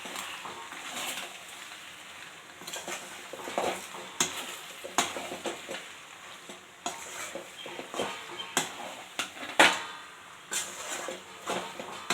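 Pasta being stirred with eggs in a hot pan, a continuous sizzle broken by repeated clinks and scrapes of a utensil against the pan, close up and without talk.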